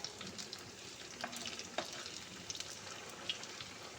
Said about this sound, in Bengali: তো এগুলোকে আমি এরকমভাবে লাল লাল করে একটু ভেজে নেব